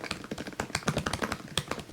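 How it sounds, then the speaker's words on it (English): Fingers type quickly on a MacBook Pro 13 with Touch Bar, whose second-generation butterfly-switch keyboard gives sharp, close, clicky taps in an irregular rapid stream, with no voices. "the oddly tactile and noisy click of the second generation butterfly switches"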